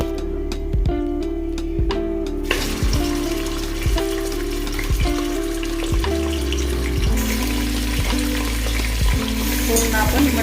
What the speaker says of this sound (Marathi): 4 ते 5 मिनिट आपल्याला याच्यामध्ये फुल गॅसवर परतून घ्यायचं आहे मटण